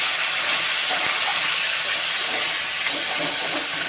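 Fish heads fry in hot oil with a loud, dense, continuous hiss and crackle, close to the pan and steady throughout, with no talk.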